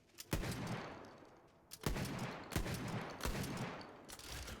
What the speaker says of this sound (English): This is a shotgun. I am now using a shotgun.